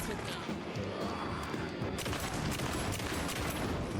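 Rapid automatic shotgun fire in the video game Alan Wake 2, a dense continuous barrage of loud blasts with crashing impacts running steadily through the whole stretch, loud and close.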